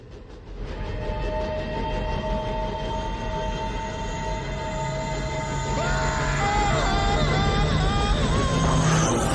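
A ghostly old New York Central train, the City of Albany, thunders through a tunnel with a constant heavy rail rumble, sustained whistle-like tones and rising metallic screeches that grow louder toward the end.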